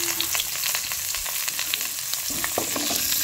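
Chopped pumpkin and potato sizzle and fry with browned onions in a pan, a steady crackle broken by scattered stirring clicks, close and moderately loud with no talk.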